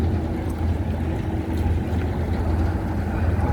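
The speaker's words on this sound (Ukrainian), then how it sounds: "Чуєте, які двигуни легенько його починають розвертати." A deep, steady engine rumble from a large yacht turning in Zadar harbour, Croatia, continuous and even, with faint wind hiss over the top.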